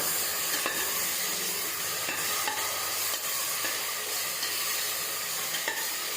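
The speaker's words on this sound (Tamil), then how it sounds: "இதை நல்லா வதக்கிக்கலாம்." Ground green chilli paste sautéing in a pan for Dindigul-style mutton biryani, a steady close sizzle and hiss with scraping stir strokes throughout, no talking.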